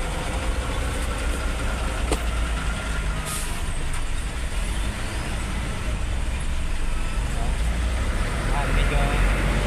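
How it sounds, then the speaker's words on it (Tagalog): Heavy traffic on a road in Balintawak, with trucks and other vehicles idling at close range, gives a loud, constant engine rumble with a brief hiss like an air brake. Someone talks over it. "Talagang matraffic."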